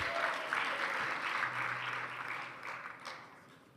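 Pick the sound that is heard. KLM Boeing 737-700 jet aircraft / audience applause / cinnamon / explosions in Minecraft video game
audience applause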